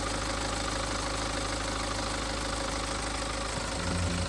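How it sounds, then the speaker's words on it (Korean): A BMW F10's B47 diesel engine idles up close after a fuel hose replacement, a steady rattly clatter with low vibration throughout and a slight bump near the end, no voices. "잔진동도 크지 않고 말썽 없는 B47 엔진입니다."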